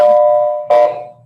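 Doorbell chimes twice, the second strike about halfway through the ringing of the first, bright and close with a sustained ringing tone.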